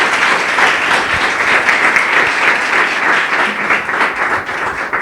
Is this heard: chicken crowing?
no